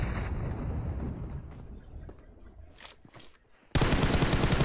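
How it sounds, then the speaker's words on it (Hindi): Gunfire in the mobile shooter BGMI during a competitive custom-room match: scattered distant shots give way to a loud, dense burst of automatic fire near the end. "शॉट्स किया जा रहा है यहाँ पे"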